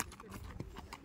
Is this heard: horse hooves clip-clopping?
yes